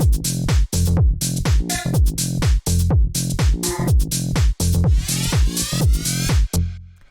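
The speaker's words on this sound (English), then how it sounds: "kind of like a 909 style kick" A punchy 909-style tech house kick drum, shaped by EQ and a drum bus, thumps in a steady four-on-the-floor pattern inside a dense, loud full-frequency loop.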